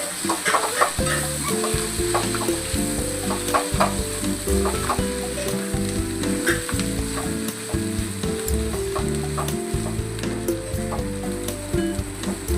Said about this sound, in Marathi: आता आपण बटाटे घालूया। याला चांगलं मिक्स करू।